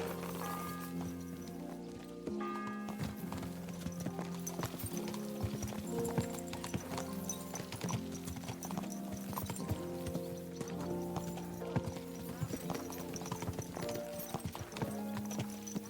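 Horses gallop with a steady clip-clop of many hooves as a mounted company rides out in Kingdom Come: Deliverance 2, continuous and fairly close, with occasional whinnies and no talk.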